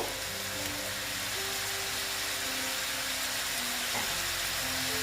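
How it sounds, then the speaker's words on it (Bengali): A Bengali banana flower (mocha) curry with tomato sizzles in a pan, a steady close hiss and crackle of frying that continues evenly, with one brief clatter near the end and no speech. "এটাকে আমি ভালো মতন কষিয়ে নেব"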